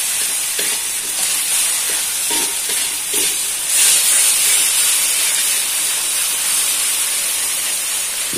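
Water spinach stir-fried in a pan, stirred steadily with a utensil, giving a continuous close sizzle and hiss with scraping strokes throughout.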